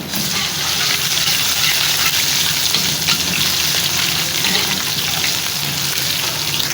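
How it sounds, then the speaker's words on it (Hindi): Onions fry in a pan with a spoonful of garlic ginger paste for beef yakhni pulao, giving a loud, continuous close sizzle with no voices. "बाकी के प्याज में हम शामिल कर लेंगे 1 चम्मच लहसुन अदरक का पेस्ट"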